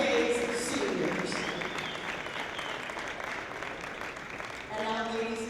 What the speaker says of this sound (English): could we have one more round of applause for all 5 Elmhurst Blue Jays seniors?